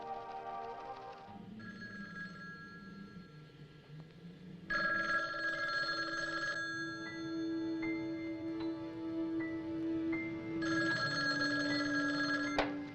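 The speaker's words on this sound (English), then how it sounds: "How about that telephone up at the Butler house? Is it working? Well, try it now." A telephone rings repeatedly in a horror film scene: long, bright electronic ring bursts come one after another under a low, eerie musical drone, with short gaps between the rings.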